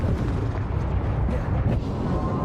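Confringo spell blasts in the Hogwarts Legacy video game make a loud, dense, rumbling explosive roar that stays steady and close throughout with no pauses.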